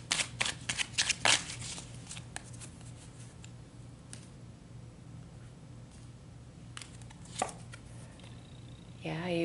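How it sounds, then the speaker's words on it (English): Tarot cards shuffled and pulled from the deck, giving a few quick papery riffs and snaps at the start, then soft, scattered handling sounds over a steady low hum, with no talking. "let's pull some more cards"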